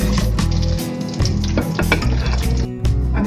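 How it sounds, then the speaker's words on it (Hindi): Raisins sizzling in hot ghee in a pan, a loud continuous close-up fry with stirring scrapes and brief breaks in the hiss. "निकालने से पहले थोड़ी किशमिश भी डाल दें इसमें, इसे भी भून लें।"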